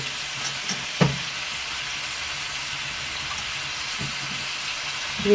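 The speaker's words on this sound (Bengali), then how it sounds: "দু মিনিট ধরে আপনারা একটু ভাজবেন দু মিনিট ধরে ভাজতে হবে বেশ কিছুক্ষণ" Red amaranth stalks fry in a pan for a Bengali stalk curry, giving a steady, soft sizzle with a couple of brief stirring knocks throughout.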